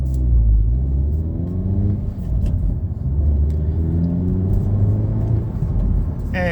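A 2025 Hyundai Elantra N pulls away from a stoplight, heard from inside the cabin. The engine gives a loud, deep rumble and its rising harmonics climb steadily through the gears.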